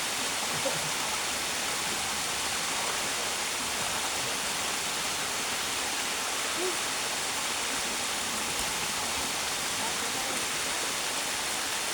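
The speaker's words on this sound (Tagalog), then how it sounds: "mataas yung bagsak ng tubig oh" Steady, dense rush of falling water, broad and continuous for the whole stretch, like a waterfall heard from fairly close by.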